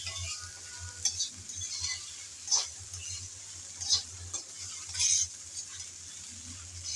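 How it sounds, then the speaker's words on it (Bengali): Taro stolons (kochur loti) frying in a pan are stirred with a utensil, giving a soft continuous sizzle broken by several scraping clinks against the pan, close and moderately quiet, with no talking. "একটু নেড়ে চেড়ে মিশিয়ে নিলাম"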